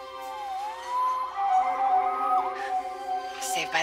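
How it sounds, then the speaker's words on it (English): A wailing siren in a Spider-Man PC game rises and sweeps in a clear tonal howl, fairly close and prominent, ending with a sudden burst of noise. "Saved by the siren."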